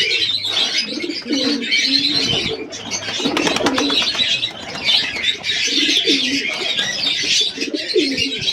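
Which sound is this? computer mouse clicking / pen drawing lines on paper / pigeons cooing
pigeons cooing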